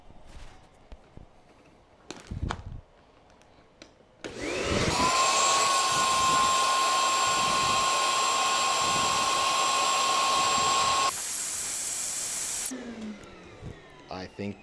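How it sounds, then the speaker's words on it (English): A vacuum draws air out of a plastic storage bag, a loud steady high-pitched whine roaring for several seconds, its pitch jumping once near the end, with handling noises and a voice before and after. "it's time to suck the air out of this bag"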